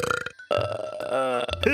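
A short, loud, voiced burp with a rumbling gurgle, close by.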